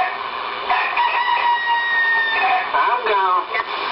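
A rooster crows over a CB radio, coming through as a loud, band-limited, tinny crow on a crackly channel, with radio talk around it.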